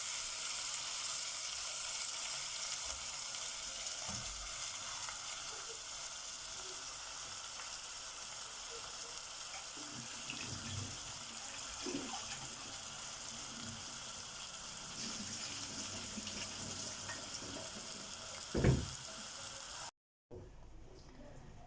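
Rice being sautéed in a pan while stuffing chicken with liver and gizzards, a steady faint sizzle and hiss throughout with occasional soft stirring clinks and scrapes.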